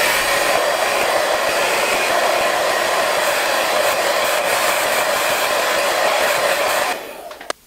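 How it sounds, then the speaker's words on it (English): A hair dryer blowing on hair runs as a loud, steady, close-up roar with no break, then cuts off abruptly at the very end. "Sometimes I go to the side as I blow dry it."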